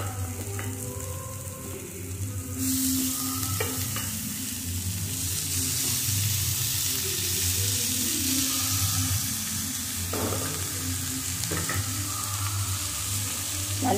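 Steady sizzling of chopped agathi (hummingbird tree) flowers frying in a pan, with occasional stirring scrapes and clinks, continuous and close throughout.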